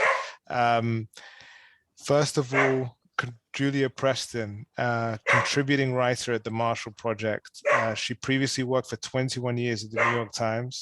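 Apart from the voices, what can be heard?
dog barking in the background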